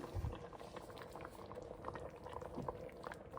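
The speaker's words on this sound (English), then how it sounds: "Jam is a bubbling." Homemade jam with lime juice boiling in a pot, soft irregular bubbling and popping, faint and close, continuing steadily without voices.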